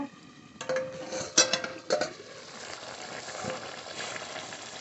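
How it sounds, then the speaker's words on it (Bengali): Duck meat sizzling in a pot during a winter village cook-up, with a lid lifted off and a few sharp metallic clanks and scrapes of stirring rising over steady close frying hiss, no talking. "ঢাকনা তুলে মাংস নেড়ে নেব"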